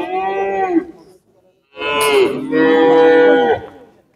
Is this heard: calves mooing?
yes